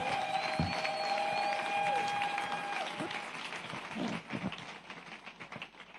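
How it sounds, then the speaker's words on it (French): A church congregation at a French-language service gives steady, dense applause that gradually thins and fades toward the end. "Est-ce qu'on peut acclamer très fort pour le Seigneur?"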